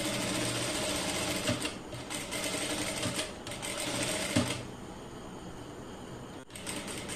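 Sewing machine stitching fabric in a steady rapid chatter, stopping briefly a few times and restarting, close and clear with no talk.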